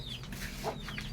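A Rhode Island mixed-breed hen in a coop gives a few short, close clucks amid other fowl chatter, brief and moderately quiet.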